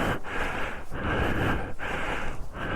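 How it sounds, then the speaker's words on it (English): Heavy, close breathing from someone exploring an old mine, loud rushing breaths in a steady rhythm of about four cycles, with no speech. "Again, I apologize for heavy breathing"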